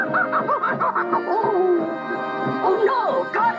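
A cartoon puppy whimpers and yips in a rapid series of high, wavering whines and short yelps, close and fairly loud, with no talk over it.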